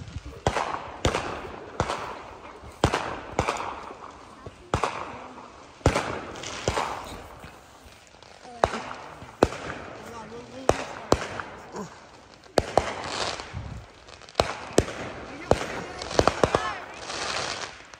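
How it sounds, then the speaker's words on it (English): Fireworks burst at an outdoor camp in sharp, irregular cracks and pops, some near and loud, others fainter, scattered across the stretch while people talk and call out in the background. "May fireworks pa kayo."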